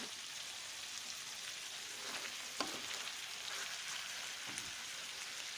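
Chicken sauté fries quietly in a pan with black pepper, red pepper flakes, salt and thyme, giving a soft continuous sizzle with a few brief clicks of stirring. No one talks.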